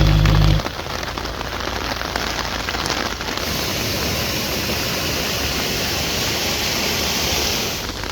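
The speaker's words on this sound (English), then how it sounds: "that's when the forecasted rain shower hit us" Steady rain shower drumming on a narrowboat on a canal, a dense, even hiss of drops on the roof that starts abruptly and stays loud and constant with no talking.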